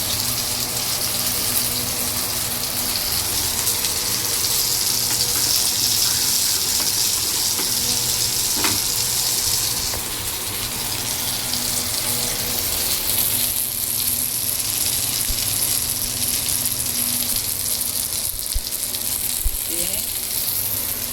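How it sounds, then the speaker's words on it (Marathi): Steady, loud sizzling of fish frying in a pan, continuous throughout with faint kitchen clatter in the background. "इथे मच्छी फ्राय होते आहे."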